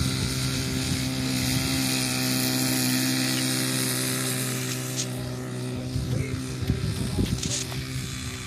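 A Piper J-3 Cub's engine held at full throttle on wet grass, a steady loud propeller drone with a low hum, close by, with brief rustling toward the end.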